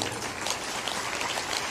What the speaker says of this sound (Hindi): ताली बजा दो।